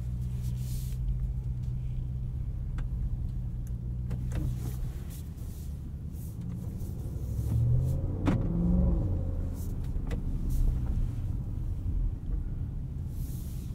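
Cabin of a 2022 Audi SQ7 on the road: a steady low engine and road rumble that swells briefly as it accelerates, with faint clicks and tyre noise, continuous and without speech.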